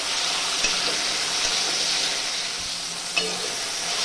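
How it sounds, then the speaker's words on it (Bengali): Okra sizzles steadily in a hot pan after salt goes in, a close, even frying hiss with a couple of faint stirring clicks. "প্রথমে আমি একটুখানি ভেজে নিলাম, এবারে কিন্তু আমি লবণটা দিয়ে দিলাম"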